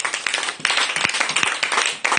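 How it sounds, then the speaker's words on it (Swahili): A church congregation claps in praise during a Bible study and prayer gathering, a dense, continuous patter of many hands, loud and close, with a few brief breaks in the rhythm. "Basi mpigie Bwana makofi tu"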